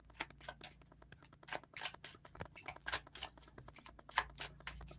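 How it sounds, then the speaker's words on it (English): A deck of tarot or oracle cards being shuffled by hand, a steady run of soft papery riffles and flicks repeating close up over a quiet background, with no talking. "I'm also going to pull a card"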